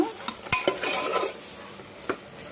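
Mutton curry being stirred in a pan: a few sharp spoon scrapes and knocks against the metal over a soft, steady sizzle, close up with no talking.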